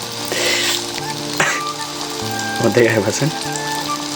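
Pitha cakes fry in a pan, giving a continuous hissing sizzle under a person talking and steady tonal background sounds.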